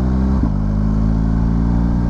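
BMW R1250GS Adventure 2024 motorcycle engine, new and still in break-in, holding a steady mid-pitched drone close to the microphone with a brief lift in revs near the start, then an even hum throughout.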